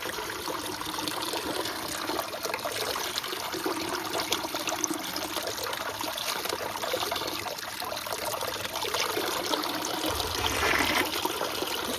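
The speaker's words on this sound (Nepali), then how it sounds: "पानी चाहिँ यसरी आफै उब्जिरहेको छ।" Cold spring water welling up from the ground in a forest, a steady, close trickle and gurgle running unbroken throughout with no talk.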